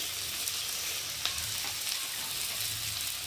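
Vegetables frying in a pan with spices, a steady soft sizzle running throughout with a few faint clicks, close and low in level, no talking.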